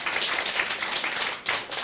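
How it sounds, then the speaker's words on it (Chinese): A lecture audience clapping for themselves, a brief dense burst of many hands at once, steady and fairly loud, close in a hall, with no voices over it. "首先大家给自己鼓掌一下。"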